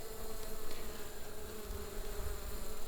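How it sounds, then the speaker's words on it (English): Yellow jacket wasps buzz around a honeybee hive in August, a dense, steady insect drone that fills the whole stretch at close range with no voices. "You'll notice yellow jacket wasps zipping in and out of the field of view here."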